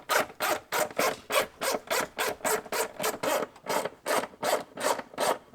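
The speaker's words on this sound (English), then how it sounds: "we need to come in with our T20 again and remove all of the screws around the filter housing" A T20 Torx driver backing out screws around the cabin filter housing of a G01 BMW X3: a steady, rhythmic series of short rasping turns, about three per second, close and distinct with no voices.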